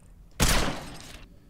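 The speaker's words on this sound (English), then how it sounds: "So second weapon, M200, firing range." An M200 sniper rifle fires on a firing range in Ghost Recon Phantoms, one sharp, loud report with a roughly second-long echoing tail, heard on its own.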